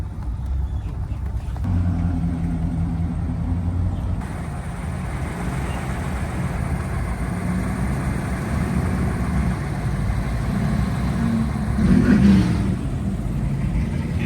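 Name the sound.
Cadillac car engine being driven onto a car show field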